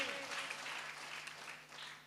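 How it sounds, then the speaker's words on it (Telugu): A church congregation claps together during a New Year service, a dense, steady wash of applause that carries on evenly throughout without letting up, with a faint sustained tone running underneath it. "చప్పట్లు కొట్టండి"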